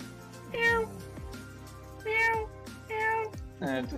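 A cat meows three times at close range, each call loud and clearly pitched, separated by short pauses, with faint knocks between them.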